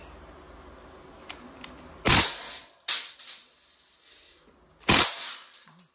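A Crosman AK1 blowback airgun fires in sharp bursts on full automatic, three loud clattering volleys spaced over a few seconds with faint clicks between them.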